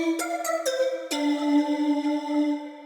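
A bright synthesizer lead plays a few quick staccato notes, then holds one sustained tone that rings on steadily, clear and alone.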